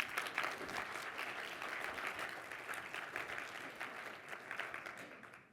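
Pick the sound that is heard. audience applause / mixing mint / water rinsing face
audience applause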